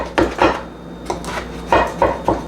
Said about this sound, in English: So I'm going to slice the bread.